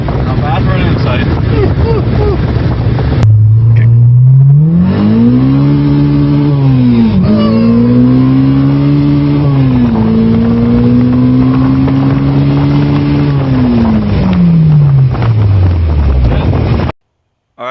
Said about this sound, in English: that was just a very quick little test drive and one first, second, third gear pull in the K-Sight